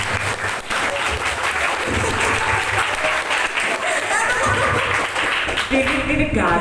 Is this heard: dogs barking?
no